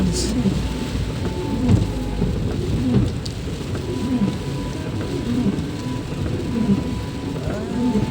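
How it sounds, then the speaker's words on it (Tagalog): Steady rain pours with low rumbling thunder during a typhoon, a dense continuous wash of downpour that stays loud and close throughout, with no voices. "Kahit maulan na. Kahit masama na yung panahon."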